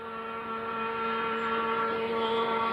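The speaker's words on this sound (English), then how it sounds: "He's lapping this course at about 75 or 80 miles an hour average." An 11-foot race boat laps a water course at roughly 75 to 80 mph, its engine giving a steady, loud, high-pitched tonal drone that holds without a break.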